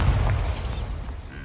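The Bombarda blasting spell in Hogwarts Legacy, a loud, heavy explosive burst with a deep rumbling boom that fills the short moment and carries a bright crackling sizzle on top.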